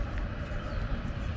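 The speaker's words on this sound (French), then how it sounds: "Bon, là c'est le bruit du train." A passing train in the Parc de la Tête d'Or area, heard as a steady, continuous low rumble with broadband noise that holds evenly throughout, with no voices.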